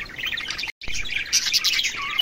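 Violet light-winged female budgerigar chirping: a busy, continuous stream of bright, close chirps and twitters with a brief gap near the start.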